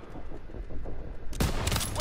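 Gunfire in the WWII shooter Call of Duty WWII, with low rumbling battle noise that breaks suddenly into a loud, close burst of rapid shots lasting to the end.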